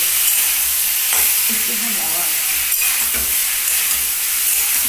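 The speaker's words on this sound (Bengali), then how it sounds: "এটাকে একদম ভালো করে ভাজা ভাজা করতে হবে" Poppy seed paste fries in a pan with a continuous bright hiss and sizzle, broken by a few stirring scrapes close by, with no talking.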